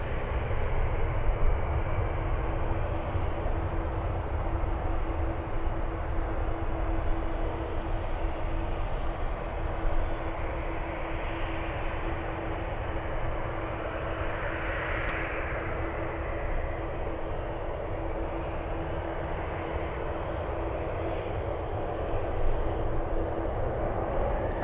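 An Alaska Airlines Boeing 737 takes off at San Francisco airport, heard as a broad, steady jet roar at a distance that holds for the whole stretch with a faint tonal hum underneath.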